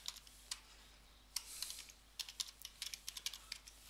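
Computer keyboard typing at a login page for a Documentum repository: short bursts of quick keystrokes, some single clicks and then a faster run of taps, close and moderately loud with no speech.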